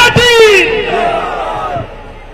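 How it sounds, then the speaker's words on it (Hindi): A Congress party rally crowd near Jama Masjid cheers a welcome. A loud burst of shouting and clapping comes at once, then fades into scattered whoops. "और जोरदार तालियों से स्वागत कीजिए जयप्रकाश अग्रवाल जी का।"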